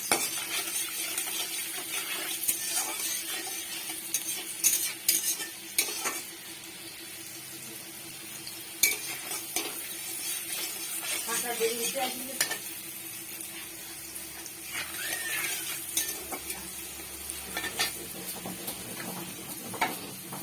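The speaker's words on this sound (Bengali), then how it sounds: "কাঁচা লঙ্কাটা একটু ভাজা ভাজা হয়ে আসলে" Soft, steady sizzling of green chilies frying in oil in a pan, with occasional utensil clinks and stirring scrapes throughout.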